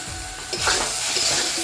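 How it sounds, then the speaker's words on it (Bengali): Dried chili paste and garlic paste hit hot oil with a sudden loud hiss that settles into a steady, close sizzle for a brief moment. "দিয়ে দিব এখন শুকনো লঙ্কা বাটা আর রসুন বাটা"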